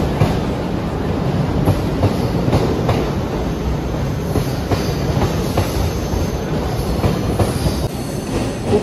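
A train runs at a busy railway platform on a Mumbai-to-Gujarat journey, its steady wheel rumble and rhythmic clickety-clack carrying on loud and unbroken, with faint wheel squeal and no talk.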